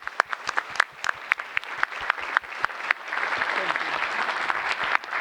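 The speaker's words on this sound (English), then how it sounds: "let's give everyone a round of applause" Audience applause at a university research talks event, starting as scattered sharp claps that swell into steady, dense clapping from a mid-sized crowd, moderately loud.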